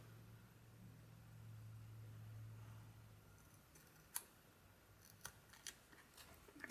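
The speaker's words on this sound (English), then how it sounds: "I'm just gonna cut out 2 hearts here with my scissors." Scissors snip through paper while paper hearts are cut out, giving a few quiet, sharp clicks spaced irregularly over a soft hiss in a calm room.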